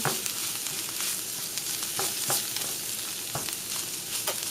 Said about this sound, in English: Some parts of it's still frozen, so I'm just going to let it cook down.